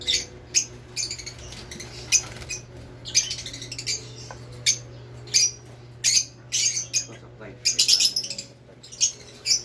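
Many birds in an aviary make busy, high chirps and squawks in overlapping bursts throughout. The calls come over a low steady hum, and faint talk runs in the background.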